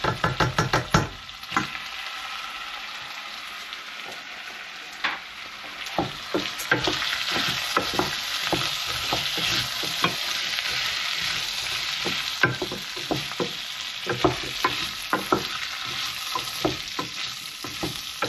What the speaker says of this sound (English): we can add the lentil and mix it all together.